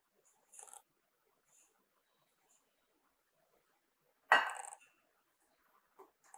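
Metal bakeware pans are handled in a quiet room, with a couple of faint, sparse clinks followed by one sharper metallic clatter and a small tap afterward.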